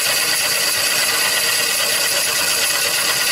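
A square cutter shears a wooden bowl spinning on a wood lathe, giving a steady, loud hiss and whir with no break over the whole stretch.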